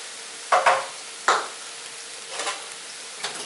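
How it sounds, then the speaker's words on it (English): A spoon stirring food in a cooking pot for a vegan dinner, with a few distinct scraping strokes and soft sizzling between them, close and fairly quiet. "I'm just going to give this a quick stir to get all the stuff incorporated in there"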